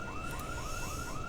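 A car or house alarm sounds in the video game Project Zomboid: a repeating rising electronic tone pulses several times in a steady rhythm, moderately loud over a constant background hum.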